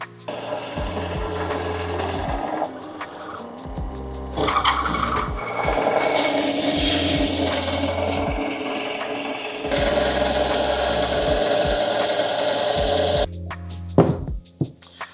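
Drilling a hole through a chunk of wood in a small DIY woodworking shop: a close, raspy, grinding bite comes in several bursts with brief pauses, ending in a few sharp knocks.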